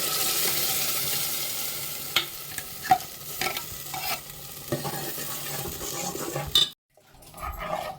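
Onions frying in a pan with ground masala for a Malnad-style dried fish sambar sizzle steadily under repeated stirring scrapes and clinks, close and moderately loud, before a brief silent gap and the sizzle's return.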